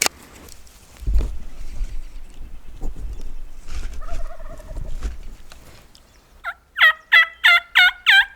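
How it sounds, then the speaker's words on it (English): A wild turkey gobbles in a rapid burst of five or so loud, rattling calls near the end of a spring hunt, after quiet outdoor rustling. "So the turkeys are now down below us."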